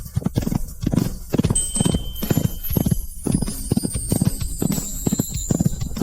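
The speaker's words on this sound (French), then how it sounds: "Dompte ce cheval sauvage." Steady rhythmic clip-clop of horse hooves on a hard surface, close and loud, with a faint high whistle-like tone above.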